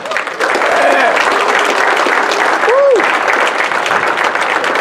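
Banquet crowd applauds a mini stock driver at a motorsports park track championship celebration, steady dense clapping filling the room with a brief voice tone rising over it midway.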